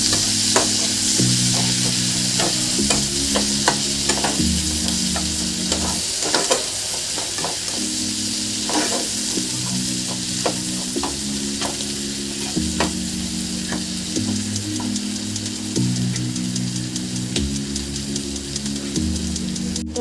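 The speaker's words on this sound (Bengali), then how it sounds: "পেঁয়াজটাকে একটু ভালো করে ভেজে নেব" Steady loud sizzling of onions frying in a pan for egg curry, with occasional stirring scrapes and a low repeating tone in the background; no voices.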